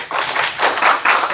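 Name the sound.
audience applause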